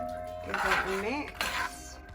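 A spoon clinks and scrapes against a pot while Jamaican oxtail is stirred, a few close metallic knocks over a short moment.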